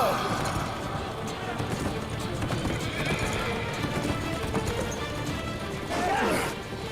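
Horses clattering in a charge with hoofbeats and a whinny near the end, set in a battle scene from the Ottoman historical drama Kurulus Osman, mixed with shouting voices and crowd noise throughout.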